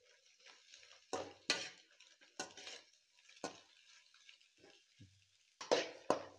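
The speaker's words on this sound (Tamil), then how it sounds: "முட்டைக்கோசு, போட்டு இது நல்லா ஃப்ரை பண்ணுங்க." Cabbage and capsicum stir-fried for schezwan chicken noodles: a spatula scrapes and clanks against the pan in several sharp strokes over a soft, continuous sizzle, close and fairly quiet.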